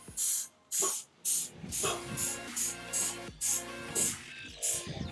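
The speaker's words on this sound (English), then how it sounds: "we're going to do one more round of spray" Repeated bursts of aerosol foam cleaner hiss onto an Axial RC rock crawler, about eight short blasts in a steady rhythm, close and loud, with a faint mechanical hum underneath.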